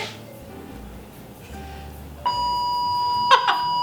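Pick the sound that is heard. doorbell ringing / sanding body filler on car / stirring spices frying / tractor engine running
doorbell ringing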